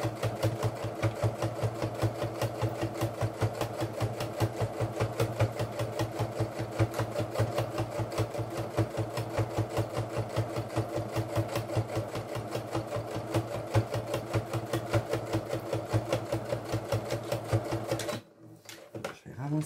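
A sewing machine topstitches a bum bag at stitch length 4, a rapid, even run of needle strokes chattering close and steady for about eighteen seconds before stopping abruptly.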